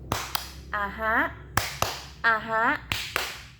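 Classroom clapping cheer led in a lesson, crisp sharp claps in a rhythmic pattern alternating with short bursts of chanted, sung-sounding voices between the claps, loud and close.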